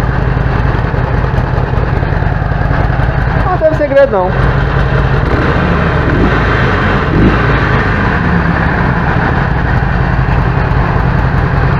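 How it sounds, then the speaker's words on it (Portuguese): A Harley-Davidson Sportster 883 engine with its original exhaust idles steadily up close with a rough, even rumble, while someone talks over it. "O motor faz mais barulho do que o escapamento."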